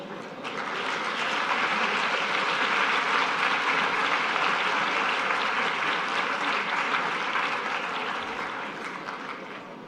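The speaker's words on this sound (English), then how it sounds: "a warm round of applause for DPM as he joins Dr. Zakaria on stage" A conference audience breaks into steady, sustained applause as a deputy prime minister walks on stage, swelling quickly and tapering off near the end.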